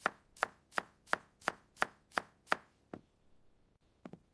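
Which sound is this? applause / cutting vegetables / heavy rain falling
cutting vegetables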